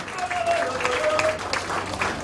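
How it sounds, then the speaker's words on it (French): Audience applause at a school beauty pageant final welcoming a jury member, a short steady patter of clapping with some crowd murmur and faint voices mixed in. "Sous vos applaudissements, s'il vous plaît."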